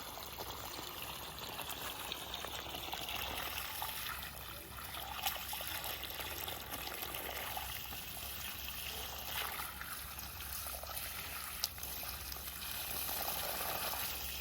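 Water trickles steadily like a small waterfall in a village garden, a soft continuous splashing wash heard from a short distance with no talk.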